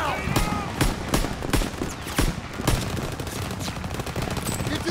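Sustained bursts of suppressive gunfire in the World War II shooter game Call of Duty: WWII, with repeated sharp rifle and machine-gun cracks over a dense, noisy battle din, and shouted voices in the mix.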